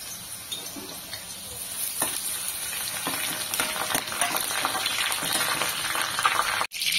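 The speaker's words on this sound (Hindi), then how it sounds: "तर तेल गरम झालंय, त्याच्यामध्ये मी आता लसूण घालते" Garlic frying in hot oil in a pan for a spiced Marathwada-style fig curry, a steady crackling sizzle with occasional stirring scrapes throughout, close and moderately loud with no talking.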